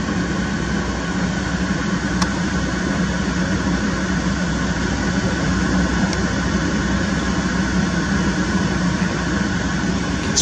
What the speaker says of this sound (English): here comes a couple more helicopters